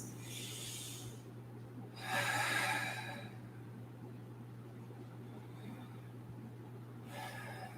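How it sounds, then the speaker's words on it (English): Slow, deep deliberate breaths during a yoga session, long airy exhales in separate waves with a steady low hum underneath, close and soft. "Still staying with big intentional breaths. Making sure to release all the air."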